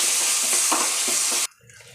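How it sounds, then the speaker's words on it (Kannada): Mustard seeds, curry leaves and dried chillies sizzle loudly in a spoonful of hot oil for a tempering, a close, dense crackle that stops abruptly after about a second and a half. "ಈಗ ಒಗ್ಗರಣೆಗೆ 1 ಸ್ಪೂನ್ ಎಣ್ಣೆ ಹಾಕ್ಕೊಳ್ತಾ ಇದ್ದೀನಿ, ಸಾಸಿವೆ ಹಾಕ್ಕೊಳ್ತಾ ಇದ್ದೀನಿ"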